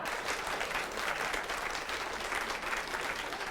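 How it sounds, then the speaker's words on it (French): Steady, moderately distant audience applause, a dense and even wash of many hands clapping continuously without pause. "Ouais, bon, et les applaudissements"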